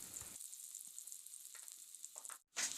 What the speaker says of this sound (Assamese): এতিয়া পিঁয়াজ দি ভাজি ল'ম।